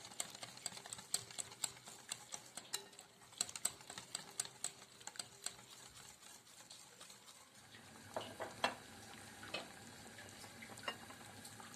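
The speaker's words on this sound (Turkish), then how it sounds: "Evet çorbam kaynadı güzel bir şekilde." Yogurt soup with vermicelli boiling in a pot, a quiet, steady stream of small irregular bubbling pops and clicks with no talking.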